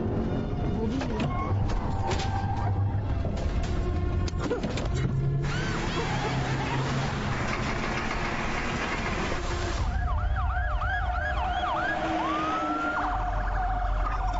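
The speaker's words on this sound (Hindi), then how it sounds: "सड़क साफ करो, एम्बुलेंस जा रही है।" An ambulance siren sounds amid busy road traffic, its wailing pitch sweeping up and down repeatedly and growing clear toward the end, with other vehicle noise around it.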